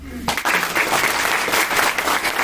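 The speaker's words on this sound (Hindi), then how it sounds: "तो फिर अपने लिए ताली बजा दो" An audience at a Ludhiana grocery event bursts into applause after a sudden start, a thick, steady wash of many hands clapping loudly and continuously.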